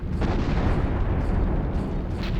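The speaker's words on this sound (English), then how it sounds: "Run from the stock explosion sound effects." A stock explosion sound effect in the Silent Hill video game, heard as a sustained, heavy rumbling roar that stays loud and steady throughout, with no voices.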